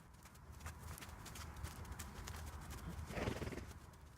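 Two horses warming up at a walk and trot before jumping poles, hooves clip-clopping in a steady rhythm with an occasional whinny, close by and fairly loud.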